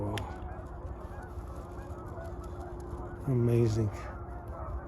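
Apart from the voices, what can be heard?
Canada geese honking on the water at night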